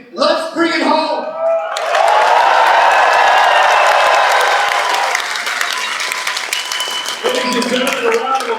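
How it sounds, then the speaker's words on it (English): A crowd at a Conservative Party election rally in Brampton, Canada breaks into loud, sustained applause and cheering that swells after a short spoken intro, holds for several seconds, then fades as talk resumes. "a round of applause for Adrian Woolley"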